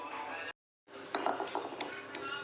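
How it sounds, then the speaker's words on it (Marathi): Garlic crushed to a fine paste in a mortar and pestle for spicy garlic oil, heard as close, uneven tapping and grinding knocks of the pestle, broken by a brief silent pause. "मी लसूण खलबत्त्यामध्ये बारीक करून घेतोय।"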